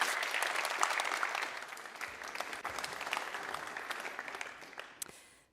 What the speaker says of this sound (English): Can I have a big round of applause, please, for Diane Coyle.